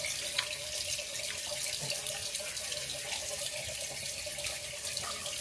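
A tap runs steadily into a sink nearby, giving a constant rushing splash throughout.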